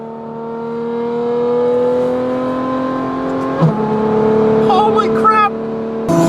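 A Ferrari F12 Berlinetta V12 with Fi Exhaust valves open, heard from inside on the highway, holds a loud, droning tone that climbs steadily, then drops as the gear shifts, with a short exclamation from the driver.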